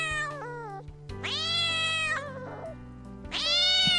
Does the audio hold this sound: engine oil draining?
no